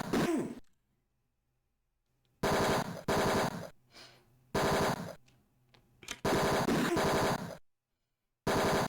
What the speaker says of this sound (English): Not sure I can even shoot them before they start shooting.